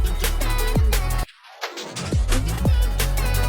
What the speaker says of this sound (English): Autobots sounds like this